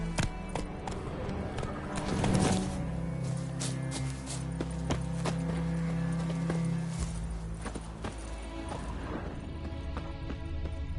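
Hooves of the horse Roach in The Witcher 3, a quick clip-clop rhythm of steps close by, with a snort or whinny and game sounds underneath.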